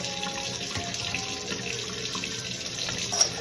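Tap water runs in a steady, continuous rush at a kitchen sink while salmon pieces are rinsed in a pan, close and fairly loud with no talking.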